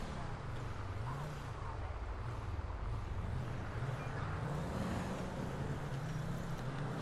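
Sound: car driving in video game GTA V

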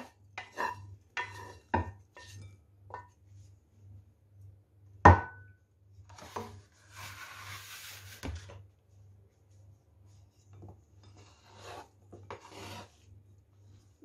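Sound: knife cutting a long vegetable into pieces for eggplant salad

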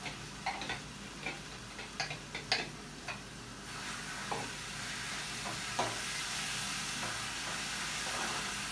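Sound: tempering onions and cumin sizzling in a pan

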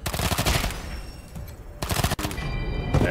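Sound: gunfire from the gunman's missed shots in the video game Wasteland 3

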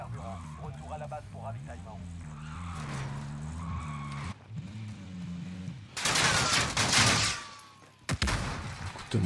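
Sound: car skidding and crashing in video game Modern Warfare

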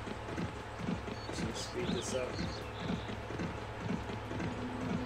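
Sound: horse hooves clip-clopping in a video game

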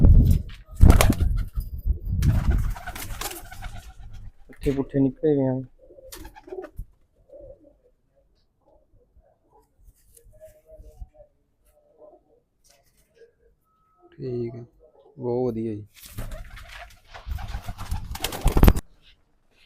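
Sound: pigeons cooing

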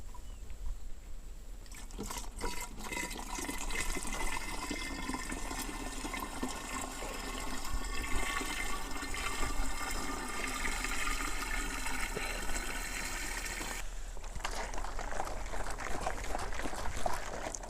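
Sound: pouring five liters of water into a container

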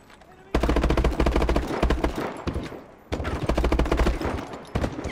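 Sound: gunfire from enemies in Call of Duty Advanced Warfare video game

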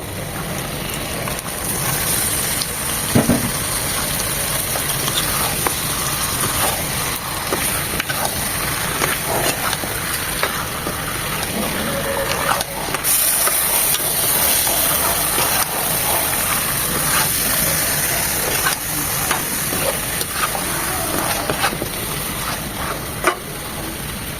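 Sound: beef sizzling as it is added to spices

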